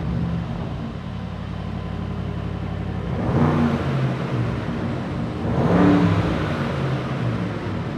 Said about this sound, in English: just turn the car on and listen to that V8